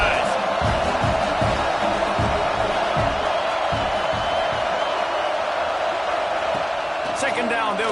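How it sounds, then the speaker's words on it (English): A dense, steady stadium crowd roar fills a college football video game matchup between Tennessee Volunteers and Ohio State Buckeyes, continuing loudly beneath a commentator's talking. "This crowd going to try to make life miserable for these guys"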